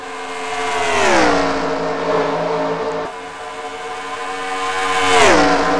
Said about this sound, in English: I heard those engines that were down on power.